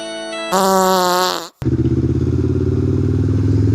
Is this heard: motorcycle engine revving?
yes